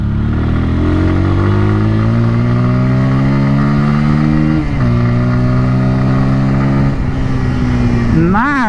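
A Bajaj Pulsar N150 motorcycle engine pulls loudly and close while riding, rising in pitch through the gears with brief dips at the shifts and a final rev.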